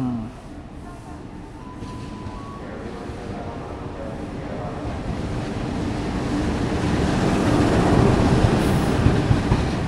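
An eastbound train rolls along track 4 through a Jakarta railway station near Jatinegara, a broad rumbling roar that swells steadily louder as it nears, with faint voices in the background.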